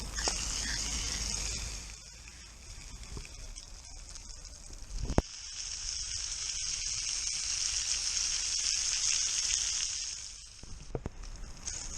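Steady hiss of whole fish sizzling in hot oil in a frying pan, continuous and close, with a brief clatter midway and faint rustling throughout.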